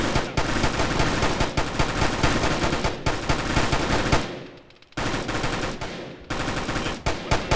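Rapid bursts of automatic gunfire from the military video game Arma crackle loudly and densely, with a brief lull in the middle before the heavy firing resumes.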